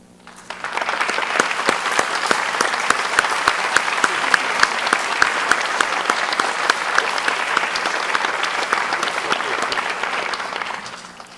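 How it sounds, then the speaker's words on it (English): A college staff audience at a fall welcome gives its new staff members a round of applause: dense, loud clapping starts abruptly, holds steady for about ten seconds, then stops sharply. "if I could have all of our new staff members stand at this time for a round of applause and a welcome"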